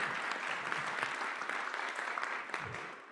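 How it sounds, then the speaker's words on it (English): A summit audience gives a round of applause, dense, even clapping filling the room at moderate level and easing slightly toward the end. "Another round of applause"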